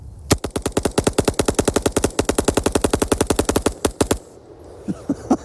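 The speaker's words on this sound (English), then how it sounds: "Let's see how quickly I can dump 60 rounds out of this with the binary system." A rifle fitted with a binary trigger dumps 60 rounds in a fast, even string of loud, sharp, echoing shots lasting about four seconds, with a few fainter trailing pops after it.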